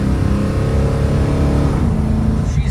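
A 1970 Ford Mustang coupe with a 302 V8 and automatic transmission drones loudly and steadily from inside the moving car, a deep continuous rumble that eases slightly toward the end.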